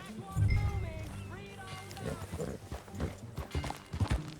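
Horse hooves clip-clop at a walking pace in Red Dead Redemption 2 on PS5, a rhythmic series of soft thuds close by, mixed with characters speaking over them.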